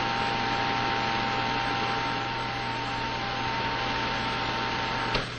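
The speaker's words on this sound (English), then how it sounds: "open the film shoes and run the projector" A 16mm film projector runs steadily during cleaning of its film shoes, giving a continuous close mechanical hum with a fixed tonal drone and even noise throughout, with one brief tick near the end.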